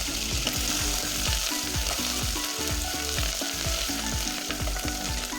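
Dried red chilies and curry leaves frying in hot oil with mustard seeds give a loud, steady sizzle and crackle throughout, with repeated scraping and stirring of the pan.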